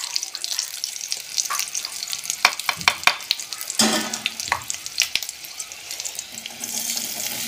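Sabudana khichdi with fried green chillies, salt and crushed peanuts is stirred and sautéed in a pan, making close, continuous sizzling with scraping spoon strokes and a few sharp clinks against the pan.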